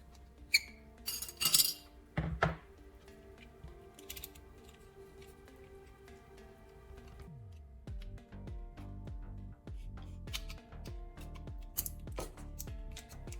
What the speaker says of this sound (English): Using pliers, I gently peel back the metal casing.